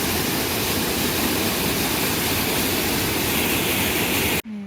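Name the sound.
waterfall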